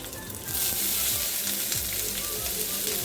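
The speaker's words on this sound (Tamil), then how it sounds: "கொஞ்சம் கருவேப்பிலை சேர்த்துருக்கேன்." Curry leaves and cut green chillies crackle and sizzle in hot oil in a pan while Bombay chutney is being made, a loud, dense frying hiss that swells up after a brief quieter start.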